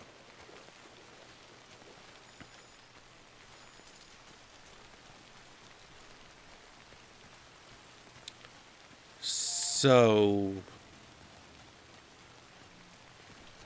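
Steady light rain patters throughout a scene in the video game Death Stranding, soft and continuous, broken briefly near the end by a louder whooshing burst with a falling tone.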